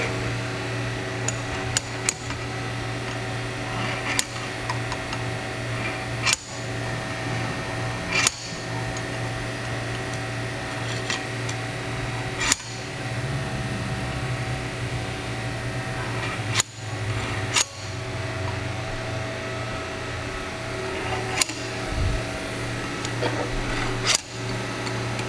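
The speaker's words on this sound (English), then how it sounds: "We're just gonna take the slide hammer and hook the washer the same as the bushing would have normally done" A slide hammer pulls a washer from the fork leg of a 39mm Harley-Davidson Dyna motorcycle fork, giving sharp metallic knocks at irregular intervals over a steady low hum.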